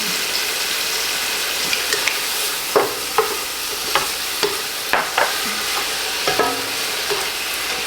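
Food stirred around in a frying pan: a steady sizzle broken by repeated sharp scrapes and knocks of the utensil against the pan, close up with no talking.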